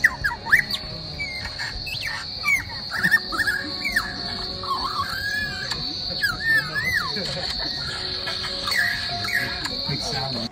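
A string of varied whistles, chirps and warbling calls from a mimicking bird in the Blue Mountains near Sydney, Australia, loud and close, over a constant high-pitched insect drone.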